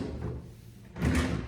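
Drawer in an art supply cabinet sliding open or shut, a short scraping rumble followed by a louder thud near the end, close by with no voices.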